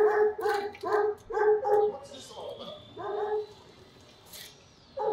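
Dogs in the video game Watch Dogs 2 bark in a quick run of rhythmic, fairly loud yelps, then pause before barking again, with a high whining tone between the bursts.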